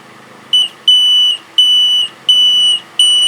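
Electronic buzzer alarm built for a railway crossing flasher at level crossing JPL 231, sounding five loud, steady high-pitched tones in a regular on-off rhythm, each lasting about half a second, with no talk.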